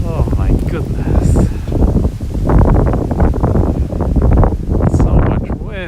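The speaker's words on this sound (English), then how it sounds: "So much wind today. And cold wind too." Strong, cold wind buffets the microphone outdoors among plum blossoms in Japan, a steady low roar with gusty swells throughout, while a person talks over it.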